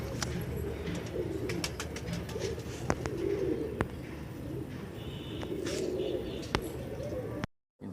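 Pigeons coo steadily at a pigeon market in Multan, Pakistan, with soft low cooing continuing throughout, plus scattered chirps and brief clicks in a busy outdoor setting.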